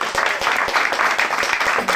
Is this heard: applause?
yes